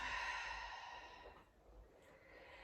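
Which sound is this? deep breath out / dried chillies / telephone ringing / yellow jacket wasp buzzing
deep breath out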